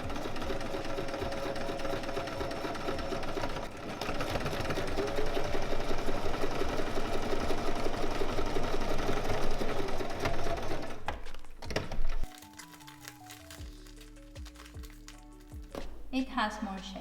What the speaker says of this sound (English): we're going to form a triangle and sew along here, only 5 centimeters